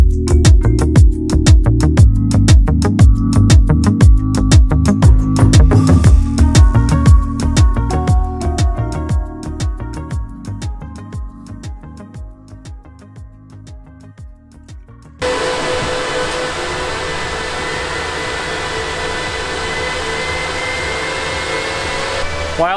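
Antminer L7 crypto mining rig booting up: loud whirring cooling fans pulse and cycle, wind down, then settle into a steady high-pitched roar of fans at full speed.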